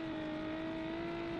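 V6 car engine in the BeamNG driving game, holding a steady, even drone with a strong tonal hum and no noticeable change in pitch.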